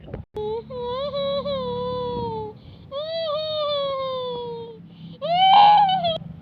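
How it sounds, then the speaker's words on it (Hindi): A baby cries in a Hindi village doll story, three long rising-and-falling wails with short breaths between them, loud and close, the last one swelling to the strongest cry. "तभी इधर उधर करने से बाबू रोने लगता है"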